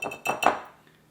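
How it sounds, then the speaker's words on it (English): A whisk strikes a bowl as cornmeal, salt and baking powder are mixed: three quick metallic clinks and scrapes in close succession, then a fading ring. "And now we will just whisk these together."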